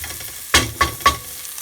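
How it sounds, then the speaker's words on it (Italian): Pancetta frying in a pan, stirred three times in quick succession, each stir bringing a sharp sizzling scrape over a steady hiss of hot fat, close and loud. "la pancetta, come vedete, sta arrotolando bene, sta sudando, quindi sta cacciando tutta il suo grasso."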